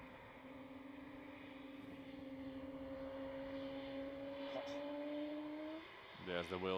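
An Embraer jet rolls along runway 36L at Amsterdam Schiphol at night, with a steady engine drone and whining tones sustained throughout, followed by a brief rough rumble near the end.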